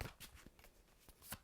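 Tarot cards are shuffled close by, giving a few soft riffling swishes and light flicks in an uneven rhythm, faint and with no talking.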